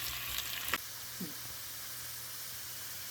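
Onions sautéing in a pan for a Tamil-style spinach curry: a steady, fairly quiet sizzling hiss runs throughout, with a faint clink or stir near the start and no talk.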